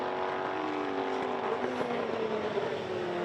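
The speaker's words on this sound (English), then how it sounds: "there's the Formula Holden, still not quite running on song, I don't think, the number 7 car" Number 7 Formula Holden race car running on track at a motorsport festival, not running cleanly, its engine a steady mid-distance drone with shifting pitch and a faint whine.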